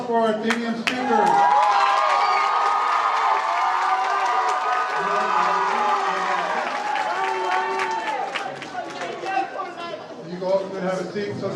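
A large crowd of applause and cheering fills the room at a debate finals event, loud and sustained throughout with scattered whoops and shouts.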